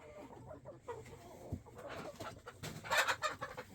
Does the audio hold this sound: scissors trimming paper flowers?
no